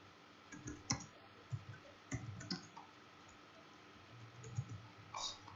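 Keys clack on a computer keyboard in a few scattered, quiet bursts of clicks separated by pauses, recorded close in a quiet room without speech.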